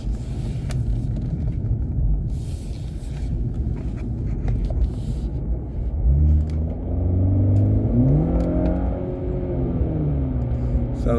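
A 2016 BMW 330e F30 with its resonator and rear silencer removed rumbles at low speed, then accelerates with a rising, throaty exhaust drone heard from inside the car.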